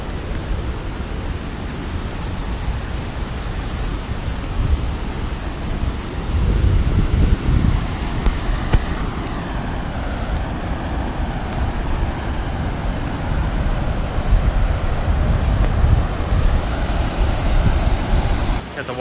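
Ocean surf and gusting wind roar loud and steady at the Devil's Hole lookout on flat coastal rock, wind buffeting the microphone, with swells of heavier wash around the middle and end.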